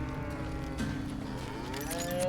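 Cattle in the western video game Call of Juarez Gunslinger moo loudly in a drawn-out, wavering low call, sustained over a steady ambient background with no talk.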